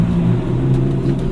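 A Lamborghini Gallardo engine rumbling while driving slowly at night toward the edge of a driveway, a loud, close, steady low growl with no talking.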